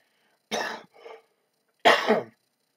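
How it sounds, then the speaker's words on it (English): Two separate bursts of asthmatic coughing, a harsh cough followed by a softer one, then a longer, louder cough about a second later, close and clear with no talking. "With asthma, you tend to cough a lot."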